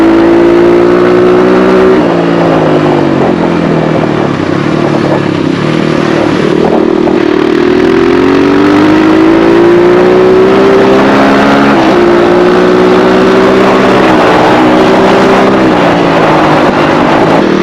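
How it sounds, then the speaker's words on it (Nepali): A new Motorhead dirt bike on an off-road ride in wet weather sounds loud and close, its engine droning and revving steadily with repeated rises and falls in pitch. "यो बाइकको साउन्डले चाहिँ मन छोयो क्या"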